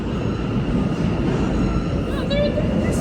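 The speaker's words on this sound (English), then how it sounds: "So there's another train coming?" A subway train rumbles into West 4th Street station, a steady loud roar of rails and wheels with faint squeals near the end, while people talk on the platform.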